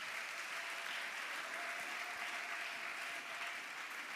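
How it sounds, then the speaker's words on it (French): A church congregation applauds the Lord in sustained, dense clapping that fills the room evenly from start to finish, with no voices rising above it. "Est-ce qu'on peut acclamer le Seigneur?"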